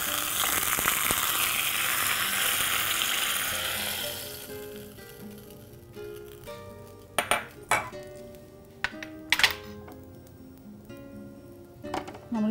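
Mustard seeds, fenugreek and curry leaves tempered in hot oil are poured into ginger rasam, giving a loud hissing sizzle at first that fades, followed by several sharp clinks of metal utensils and pans.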